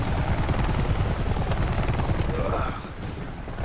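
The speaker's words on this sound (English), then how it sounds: "Boost me up into the chopper." A helicopter in the video game Army of Two lifts off with a loud, steady rotor chop and engine roar that eases slightly near the end, with gunfire and voices mixed in.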